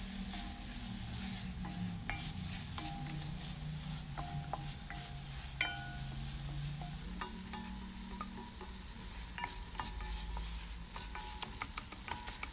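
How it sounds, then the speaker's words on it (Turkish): A mixed tomato and pepper paste fries in a pan with a soft, steady sizzle while a spoon scrapes and taps against the pan at intervals. "Salçamızı da güzelce kavuralım ki salça kokusu gelmesin."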